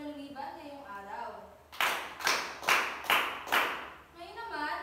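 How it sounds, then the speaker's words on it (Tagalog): Classroom of fourth-grade pupils giving themselves a round of applause: five quick bursts of clapping in rhythm, bracketed by a teacher talking before and after. "Bigyan natin ng palakpak ang inyong mga sarili dahil walang lumiban ngayong araw."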